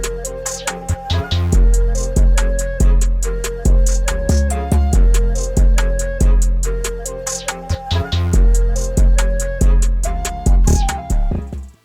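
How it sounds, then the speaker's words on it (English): Hip hop beat in its raw, unmixed state, heavy booming bass and kick hits with bright hi-hats and a repeating melodic loop, playing loud and steady on its own with no voices. "I have this little beat I've made here, and there's absolutely no mixing done to it, and this is what it sounds like."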